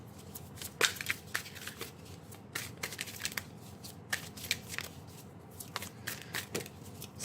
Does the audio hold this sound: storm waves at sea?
no